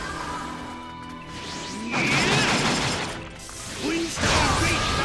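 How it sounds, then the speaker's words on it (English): Wind Style Great Vacuum Bullet jutsu in Naruto Storm Connections, with rushing whooshes and crashing impact bursts in two loud surges over game music, and a brief voice line between them. "Wind style great vacuum bullet."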